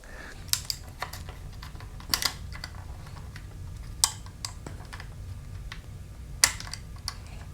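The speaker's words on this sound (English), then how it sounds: "I'm just going to put the knife blade up against the inside of this tab and score a line" A knife blade scoring a straight line along the inside of a plastic tab on a luggage rack build, giving a few sharp scraping clicks at irregular intervals over a low steady background hum.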